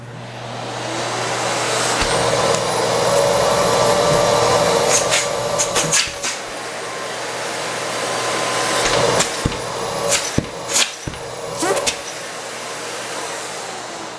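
A Miele Compact C1 canister vacuum cleaner motor roars steadily and loudly throughout, with a few sharp knocks and clatters breaking in toward the middle.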